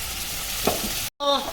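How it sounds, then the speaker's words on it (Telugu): A spoon stirring turmeric through potato, eggplant and carrot curry frying in a pan, steady close sizzle with a scrape midway, then a short cut and resumed sizzling. "పసుపు వేసుకున్నాక కలుపుకుందాం."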